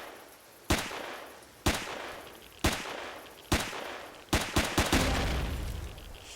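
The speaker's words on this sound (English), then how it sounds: "They got turret." Turret fire in the video game Empyrion Galactic Survival: sharp, loud single shots about one second apart, then a quick burst of several, each ringing out into a fading tail.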